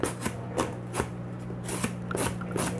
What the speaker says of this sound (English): I will cut until I run out of cardboard, probably an hour.